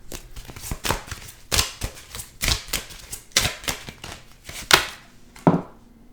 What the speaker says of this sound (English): I'm shuffling the wrong deck.